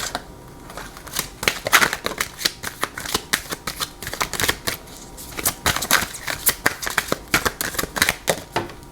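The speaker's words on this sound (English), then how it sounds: "I will be pulling one of these oracle cards" Oracle cards are shuffled by hand in quick, crisp riffling bursts that repeat in an uneven rhythm. The shuffling is close and fairly loud, with no voices.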